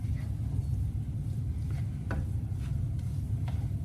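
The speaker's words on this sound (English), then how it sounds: "Oh, starting to sizzle." Tiger nut cake batter toasts in a hot pan with a steady, close sizzle that carries on throughout, broken by a few faint scrapes and clicks.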